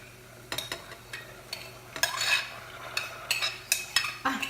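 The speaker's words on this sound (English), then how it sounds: "what we're doing right now with the onion and the celery is we're sweating them down and making them translucent" Onions and celery sweating in melted butter in a stovetop pan, heard as soft sizzling under repeated clinks and scrapes of a utensil stirring, close and fairly quiet.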